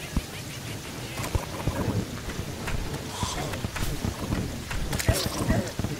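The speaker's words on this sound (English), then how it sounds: "The rain hurts." Rain and thunder from the Terraria video game, with the rain falling from a hostile cloud, make a dense patter of drops and low rumbles, while people talk over the storm.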